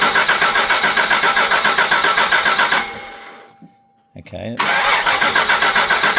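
A 1985 Jaguar XJ6 engine runs loudly, cuts out into near silence, then cranks briefly and fires back up into a steady, throbbing idle. A voice speaks once.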